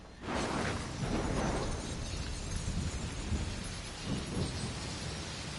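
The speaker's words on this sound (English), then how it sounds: "unfortunately it's raining in my game" Steady rain with low rumbling thunder in the open-world game Assassin's Creed Shadows, a continuous heavy wash with rolling swells rather than sharp cracks, heard alone.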